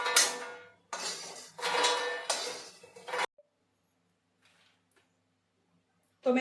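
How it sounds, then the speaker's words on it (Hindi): Roasted makhana (fox nuts) are tipped from a pan onto a metal plate, with a few bursts of rattling, clinking dry kernels against metal, close and loud, followed by near silence. "तो मैं निकाल लूंगी थाली में।"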